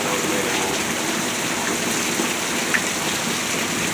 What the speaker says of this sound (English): We can say this is the most baddest rain.